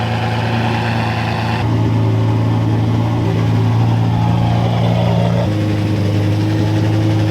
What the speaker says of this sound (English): Maybe Jesse's gonna rev it a little bit for us